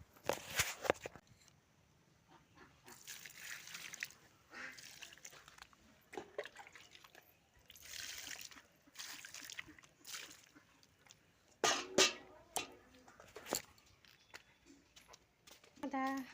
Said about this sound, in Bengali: এখন হাত পাটা ধুয়ে নিব